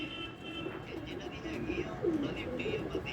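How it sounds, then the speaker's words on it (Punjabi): A Firozpuri pigeon coos in soft repeated throaty calls, close by, over a low murmur of background noise. "ਲਓ ਜੀ ਇੱਕ ਆ ਕਬੂਤਰ ਆ"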